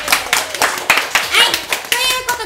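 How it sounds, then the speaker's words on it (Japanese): Brief bursts of hand clapping from a small audience at a comedy theater show, uneven and close, mixed with overlapping voices and chatter between the claps. "あなたたちに拍手"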